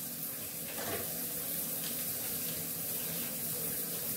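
Steady running water pours continuously while hair is rinsed, a close, even hiss with no pauses.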